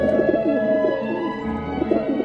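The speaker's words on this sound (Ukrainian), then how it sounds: "Над ним висіло сто кліток із дикими голубами." Wild pigeons coo in soft, repeated throaty rolls, several overlapping calls at close range, with no talk over them.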